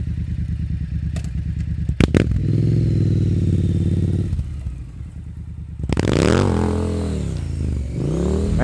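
Motorcycle exhaust under acceleration on the road, with a worn clutch that slips, loud and close with rising engine pitch, a brief drop around a gear change, then revving climbing again, no talking.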